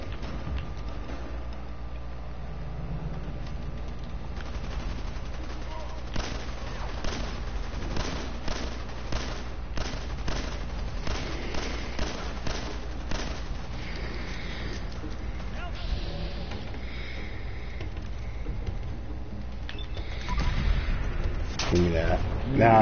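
Sporadic gunshots in Fallout 4, with scattered sharp cracks at a moderate level over a steady background hum, and a heavier burst near the end.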